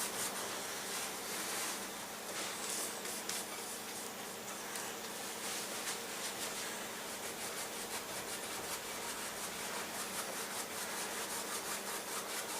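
Paintbrush scrubbing in quick crisscross strokes over a painting surface to make wispy clouds, a continuous dry rasping rub that stays steady and close for the whole stretch, with no talk.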